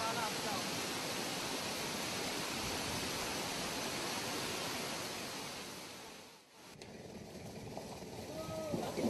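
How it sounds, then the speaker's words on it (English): A steady rush of falling water from a waterfall in Champasak, Laos, fills the scene, broad and continuous, briefly dipping before returning. "Nearby are also Tat Yuang and Tat Chan waterfalls, which are part of the same water source."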